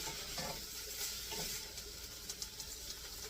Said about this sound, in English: So I'm going to get those fried up a little bit.